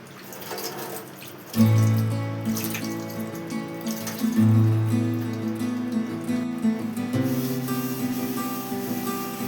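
Tap water runs steadily while a stove is rinsed in a home kitchen. The rushing stream is loud and close, with its pitch and splash shifting as the flow strikes the surface.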